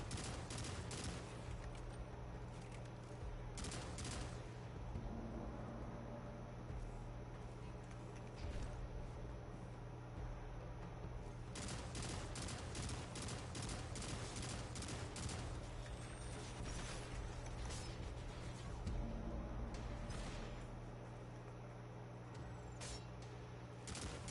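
Gunfire fills a fight against Cabal enemies in Destiny, with rapid repeated shots in bursts and sustained volleys over a constant low game rumble, fairly quiet overall.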